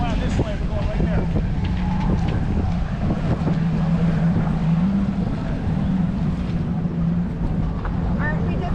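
Steady wind gusts buffet a boat during a rescue of sailors who ran aground, with a low engine drone and water wash underneath and people talking on deck throughout.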